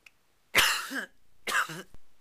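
Two harsh, close coughs from a man with a lingering illness, each a sharp burst trailing into a rough exhale, separated by a short pause.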